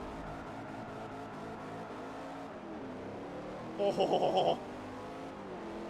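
Race car engines drone and rev in Forza Motorsport 4 at the start of a race against Lamborghinis, a continuous layered roar with a brief louder burst of engine whine midway, and a short spoken exclamation.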